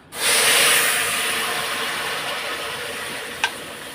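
Chana dal poured into a hot kadai of tempering, bursting into a loud, broad sizzle that stays steady and slowly eases off, with one short clink near the end.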